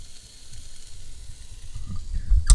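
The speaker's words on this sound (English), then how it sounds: "you should be able to hear it quietly simmering away in the recipe" Food simmering in a pot, a faint low bubbling and sizzling hiss that stays steady and quiet, ending with a brief louder knock.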